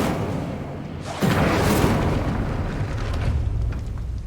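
Incendio fire spell cast in Hogwarts Legacy, a burst at about 1.2 seconds swelling into a roaring whoosh over a steady game ambience background.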